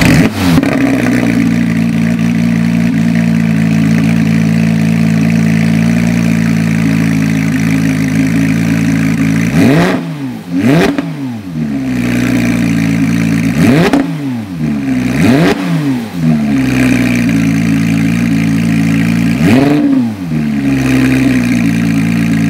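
Porsche 991.2 911 GT3 RS flat-six idling steadily close by, then blipped through several sharp rising-and-falling revs, with a final loud rev near the end and no talking.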